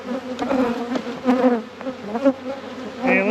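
Honeybees swarming and buzzing angrily during a hive inspection after winter, close dense buzzing with individual bees flying past the microphone in short fluctuating swells.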